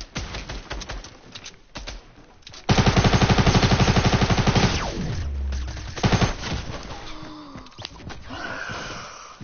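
Rapid automatic gunfire in a shooter video game, a long loud sustained burst of closely spaced shots followed by a few more scattered bursts, with no talking.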